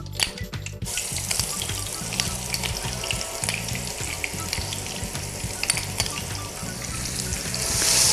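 Garlic-ginger paste sizzles and spits loudly in hot oil for Lahori chikar choley, a sharp crackling frying sound that starts abruptly and continues with occasional stirring scrapes, no one talking.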